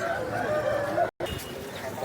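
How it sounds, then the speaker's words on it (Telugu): A rooster crows amid steady bustle at a poultry market in Vijayawada, with a faint murmur of people in the background. "కోడిపుంజు"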